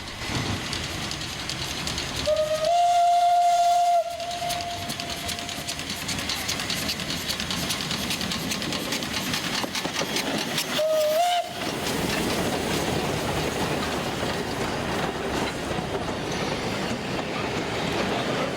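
The Feistritztalbahn, an Austrian narrow-gauge steam railway, rolls along with a steady rumble while its steam whistle sounds twice, a long blast early on and a short one later.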